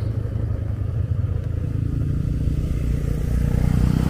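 A motorcycle with a very bright headlight comes up from behind on a dark mountain road on the slopes of Mount Slamet, a steady, loud engine drone heard over constant wind and road noise from the rider's own bike.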